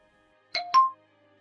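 Two short electronic tones from a telephone keypad being dialed, quiet and close, one right after the other, in an otherwise silent room.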